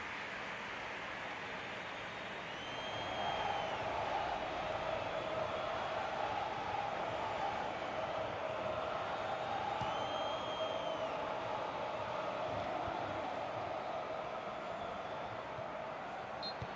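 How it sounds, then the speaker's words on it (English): In the football game PES 2019, a stadium crowd holds a steady, broad roar of applause and cheering that swells after a quiet start and then stays even and dense. "at least the crowd are appreciative of his efforts"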